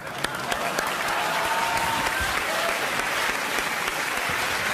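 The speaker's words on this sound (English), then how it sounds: "please welcome him with a nice round of applause" A studio audience claps and cheers for a guest on a talk show, steady dense applause lasting throughout with a voice faintly beneath it.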